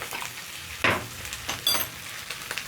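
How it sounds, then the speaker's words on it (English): Spinach seasoned with salt and black pepper cooks in a pan, giving a steady soft sizzle broken by a couple of louder stirring scrapes, close by with no talking. "So cooking spinach usually takes about a minute."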